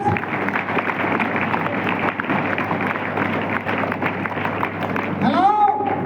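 A lecture-hall audience at a personality development program claps together, a dense, steady wash of applause filling several seconds at moderate volume.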